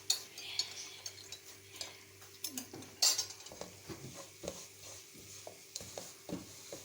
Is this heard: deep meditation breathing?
no